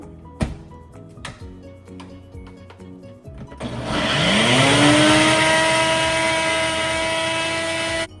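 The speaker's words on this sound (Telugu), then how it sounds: "ఇప్పుడు దీన్ని గ్రైండ్ చేసేసుకుందాము." A kitchen mixer grinder whirs loudly as it grinds broccoli and spinach with a little water, starting after a few seconds of quieter clatter and running steadily at high speed until it cuts off.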